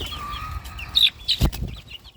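Bulik chickens in a pen with grass flap their wings and cluck in a few close, sharp bursts, with no talking.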